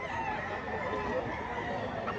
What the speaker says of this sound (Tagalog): Magulang na manok.